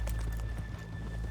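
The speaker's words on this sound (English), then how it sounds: "let's leave the horses here off the main drag" Horses in Red Dead Redemption 2 give a short whinny over soft hoof clip-clops, fairly faint beneath a low ambient rumble and a steady tone.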